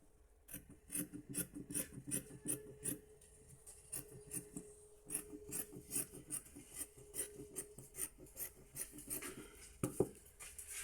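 Fabric for a button-down dress is cut close by in a steady rhythmic series of quiet rasping strokes, each cut following the last at an even pace, faint and with no talk.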